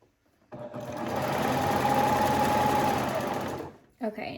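A sewing machine runs steadily for about three seconds while stitching fabric for color-block joggers, a loud continuous motor hum with rapid needle chatter, followed by a brief soft handling noise.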